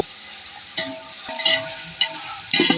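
Onions sauté for village-style chicken dum biryani in a pan over a wood fire, a close sizzle broken by sharp scraping stirs every half second or so.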